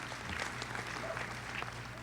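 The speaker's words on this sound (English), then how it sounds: "give them a round of applause" Graduation ceremony audience applauding in a steady wash of many hands, held at a fairly even level with faint crowd murmur underneath.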